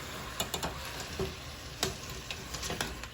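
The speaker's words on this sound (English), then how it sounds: "So I'm putting in the shrimp into the pot. As you can see, you can stir it up." Frozen shrimp stirred in a pot for shrimp Alfredo, giving a soft continuous sizzle broken by several sharp clinks and scrapes of the spoon against the pot, close and moderately quiet, with no talking.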